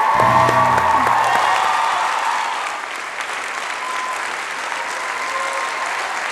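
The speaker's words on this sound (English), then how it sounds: "Let's give all our dancers a round of applause." An audience at a school dance show with teachers as dancers applauds and cheers, loud and dense at first with some whoops, then easing into a softer, thinner patter of clapping.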